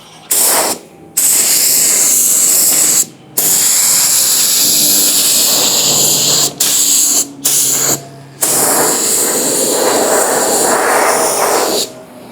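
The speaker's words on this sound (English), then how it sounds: "I'm gonna spray this panel right here." Spray gun painting a car body panel during dent repair: long, steady loud hissing bursts with several short pauses between passes, close and with no speech.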